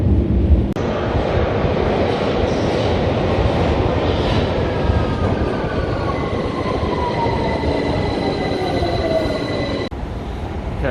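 London Underground tube train running steadily and loudly through the full length, a deep continuous rumble with rising and falling wheel squeals and whines, no talking.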